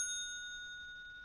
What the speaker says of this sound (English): I like the little doorbell, that's nice.